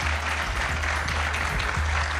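Players of the Vitória football club stand and applaud their coach at a Bahia state championship awards ceremony, a sustained crowd clapping heard fairly close and loud.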